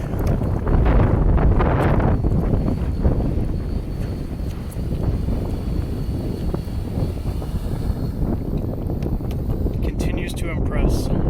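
Strong wind blows hard during a drone flight test outdoors, a loud continuous rumbling rush with gusty buffeting on the microphone, and a faint higher whine briefly near the end.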